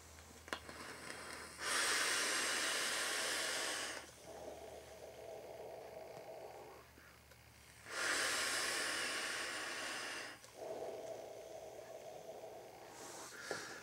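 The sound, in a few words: vaping hit from an Eric competition RDA clone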